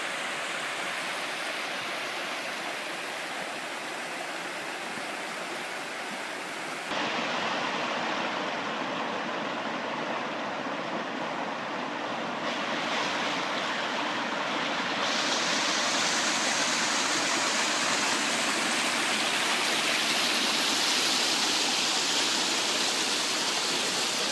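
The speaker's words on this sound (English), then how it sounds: "We come to another nice little bend in the river." A river rushes steadily around a bend beside a campsite trail at Turkey Pen, a continuous broadband wash of moving water that swells slightly louder partway through, with no voices.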